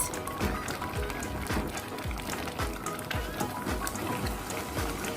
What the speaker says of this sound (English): Make sure it boils till all the water runs out